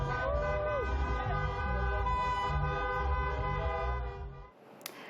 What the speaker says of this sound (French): On a entendu des voitures klaxonner une bonne partie de la nuit.